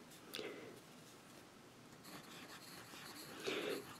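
A Duke Uranus fountain pen with a wet nib scratching softly across paper in a few faint strokes, quiet and close, with light breathy background noise.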